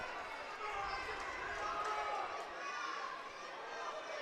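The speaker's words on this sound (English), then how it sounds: "You can hear the crowd starting to pick up even more" A high school wrestling crowd at a Perham versus Frazee match cheers, hoots and hollers steadily, a broad roar of many voices filling the gym and swelling slightly midway.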